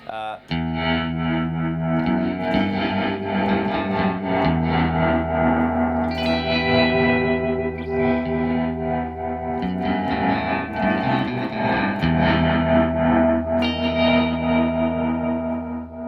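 An electric guitar through an Eventide Space reverb pedal on its Horror Show preset, drenched in dark, swirling effects, with thick reverb and echo tails smearing the notes into a dense, continuous wash.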